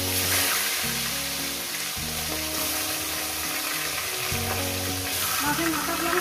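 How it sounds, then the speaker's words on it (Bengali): Fish heads sizzle loudly in hot oil in a pan, a dense continuous crackle with a steady low hum underneath throughout, no talking. "মাছের মাথাগুলো প্রথমে আমি ভেজে নেব।"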